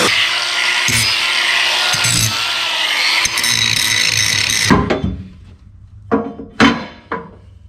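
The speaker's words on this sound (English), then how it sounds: "I cut a couple pieces of 2-inch square tubing, and I was going to use that as my spacer" A power saw cuts 2-inch square metal tubing with a loud, harsh, sustained grinding whine that stops partway through, followed by several short clanks and knocks of the metal pieces being handled.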